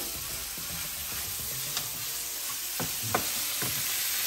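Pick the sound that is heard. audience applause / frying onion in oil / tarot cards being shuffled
frying onion in oil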